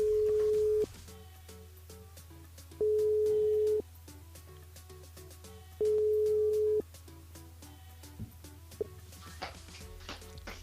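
A telephone line rings out three times in long, steady tones with gaps between them while a station calls a listener live on a French-language radio show, music playing quietly beneath.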